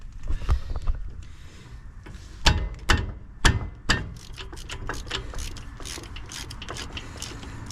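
Ratchet loosening an 11 mm brake caliper bolt on a 2015-2022 Chevy Colorado or GMC Canyon, sharp separate clicks followed by faster, softer ratcheting, close and without talk.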